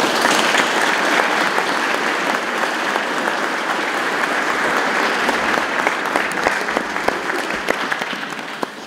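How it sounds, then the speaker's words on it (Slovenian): Hall full of people applauding at a centenary celebration of a mountaineering society, dense continuous clapping at even strength throughout, with sharper individual claps standing out toward the end. "En aplavz za njih, prosim"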